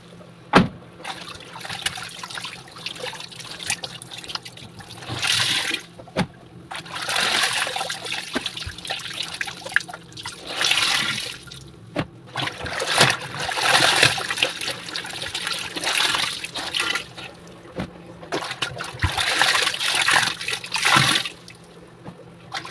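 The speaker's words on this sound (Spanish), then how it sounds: "Voy a sacar mi ropa y ya la echo en el segundo enjuague de la otra prenda para ahorrar una" Wet laundry is lifted from a tub and dropped into rinse water while it is washed with a biodegradable stain-removing soap. Repeated close sloshing splashes and dripping come in irregular bursts, with no talking.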